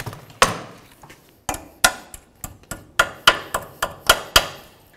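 A hammer strikes a cotter pin on a castle nut during wheel work, giving about a dozen sharp, close metallic taps at an uneven rhythm with short pauses, with no talking.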